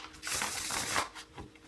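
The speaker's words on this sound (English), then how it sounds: "One last shuffle for Virgos in third quarter." A deck of tarot cards is riffled in one brisk, close shuffle lasting about a second, a crisp fluttering rush that ends with a few soft taps as the cards settle.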